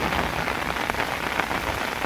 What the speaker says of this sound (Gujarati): આવો વરસાદ પડ્યો છે